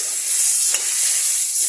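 Garlic and onion sauté over high heat in a pan, a steady bright sizzle filling the short stretch with one brief stir-like flare partway through, close and alone without talk.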